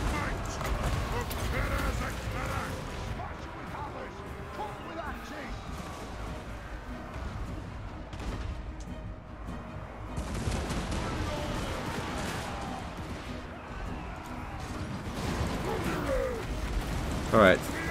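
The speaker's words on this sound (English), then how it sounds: "Now they're firing." Artillery and gunfire in a video game battle, a quiet, continuous wash of distant volleys, thuds and crackling shots under voices talking.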